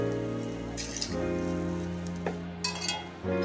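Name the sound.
lentil and egg pakoras frying in hot oil in a wok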